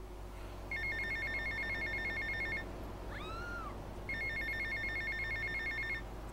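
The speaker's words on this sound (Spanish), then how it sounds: "Ok, contestamos el móvil." A mobile phone in GTA Vice City rings in two bursts of rapid electronic trills separated by a short pause, moderately loud over a quiet low hum.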